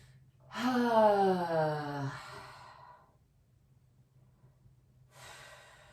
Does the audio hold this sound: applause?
no